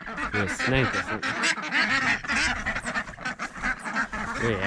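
Khaki Campbell ducks quack loudly and close together in a busy, overlapping chorus of rasping honks that carries on without a break.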